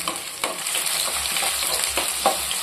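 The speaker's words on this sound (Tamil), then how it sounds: "கூடவே பத்து டு பதினஞ்சு வெள்ளைப்பூண்டு சேர்த்துக்கலாம் சேர்த்து இதையும் வதக்கிடலாம்" Steady pan sizzle of garlic and shallots sautéing for anchovy fish curry, with occasional stirring scrapes, close and continuous with no talking.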